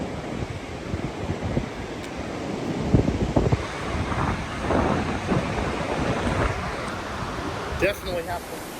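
Strong gusting wind roars across the microphone over crashing surf on a beach at falling tide during hurricane-force winds, with a loud, constant rumbling wash.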